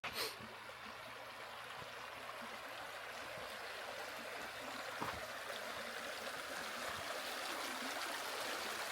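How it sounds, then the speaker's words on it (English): Black River flowing past an Arizona campsite about 25 feet away, a steady broadband rush of moving water with faint trickling and splashing, continuous and moderately near with a brief knock at the start. "We're about 25 feet away from the river."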